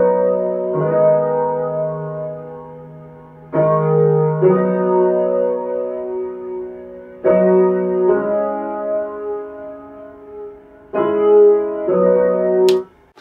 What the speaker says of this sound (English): I have the echo time on one side up so that it does kind of a Haas effect and widens the sound